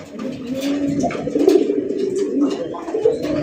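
Pigeons at a farm coo in soft, repeated throaty phrases close by, one call rolling into the next with a faint background murmur.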